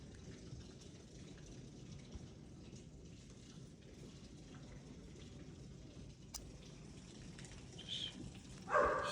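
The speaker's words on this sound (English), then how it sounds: "It's just heavy rain." Heavy rain pours steadily through a severe thunderstorm in Lubbock, a dense, even hiss of rainfall close by, with a brief sharp crack partway through and the downpour swelling louder near the end.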